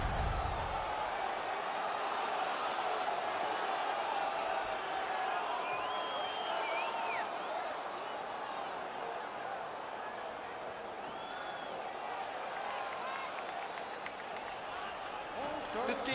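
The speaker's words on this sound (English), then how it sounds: "The crowd is ecstatic." A hockey arena crowd in the NHL 19 video game cheers after a fight. It makes a steady, moderately loud roar of crowd noise with occasional whoops rising out of it, lasting throughout.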